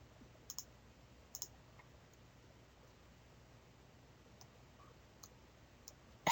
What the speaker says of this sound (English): But I am just pressing the shift and the plus or minus keys.